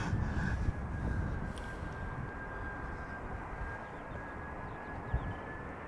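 A Surinam Airways Airbus A340 at Schiphol Airport gives off a steady, distant engine roar with a faint high whine held level throughout.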